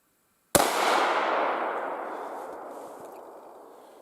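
One sharp, loud shot from a Los-7-1 rifle cracks nearby at 100 metres range, followed by a long echoing decay rolling away over several seconds.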